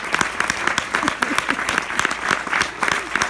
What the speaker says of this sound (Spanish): os pido por favor un aplauso para ellos todos